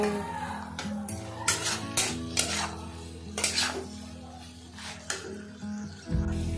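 Soybean chunks and potato stirred into spice masala in a pan, repeated clattering scrapes and knocks of a spoon against metal over a faint sizzle, close and fairly loud.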